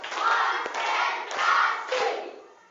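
During a classroom icebreaker, students chant together in rhythmic phrases, each punctuated by a sharp unison clap, three beats spaced evenly over a couple of seconds, loud and close.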